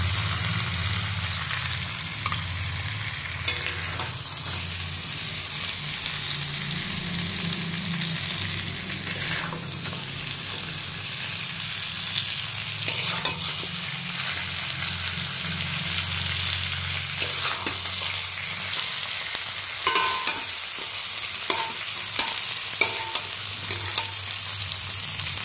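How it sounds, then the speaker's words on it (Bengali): Mutton sautéing in a pan gives a steady dense sizzle, with occasional scrapes and clinks of a spoon stirring the meat, close and continuous throughout. "এই দেখো মাংসটা আমার ভালোভাবে কষানো হয়ে গেছে।"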